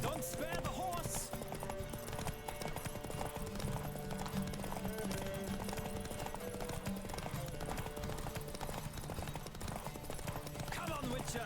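Horse hooves galloping in a race in the Witcher 3 video game, a steady, continuous clip-clop rhythm under game music and effects throughout, with riders' voices faintly in the mix.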